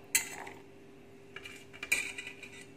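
Coconut goes into a green chutney mix with a couple of faint, quick clinks of a spoon against a dish or jar, separated by a short quiet pause.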